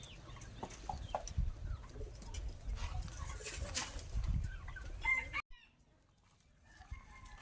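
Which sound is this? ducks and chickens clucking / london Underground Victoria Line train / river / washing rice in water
ducks and chickens clucking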